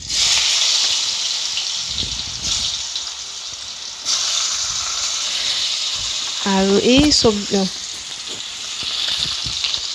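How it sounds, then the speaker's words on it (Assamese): Potatoes fry in oil in a pan with a steady, bright sizzle and hiss, briefly surging after a stir, while someone speaks over it near the end. "এই আলুবিলাক ৰঙচুৱাকৈ ভাজি ল'ম"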